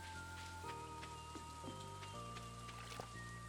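Rain falls in a farming video game as a soft, faint, steady patter beneath quiet game music that shifts tones across the stretch.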